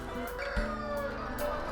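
Chickens on a free-range egg farm cluck and call softly in a low, continuous murmur of the flock. A faint crow-like call rises briefly in the quiet background.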